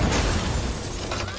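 A bomb goes off indoors in the 2022 action film Blind War, a loud, dense roaring blast with shattering debris that fills the whole moment and slowly thins out.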